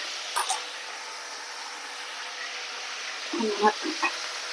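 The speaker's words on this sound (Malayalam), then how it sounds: "നമ്മൾ ആ എണ്ണയിൽ തന്നെയാണ് ചിക്കൻ വറുക്കുന്നത് കേട്ടോ" Chicken pieces frying in hot oil for chicken biryani, a steady close sizzle running throughout, with a few brief clatters of stirring and faint voice.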